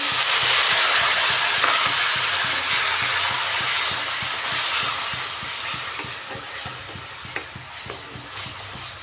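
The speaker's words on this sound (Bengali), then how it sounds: "মশলাটা শুকনো হয়ে গেছে তাই সামান্য জল দিয়ে দিচ্ছি" A pan of frying spice paste, loosened with a splash of water for a cauliflower curry with lentil badi, sizzles and hisses continuously, with soft stirring scrapes through it and no talk.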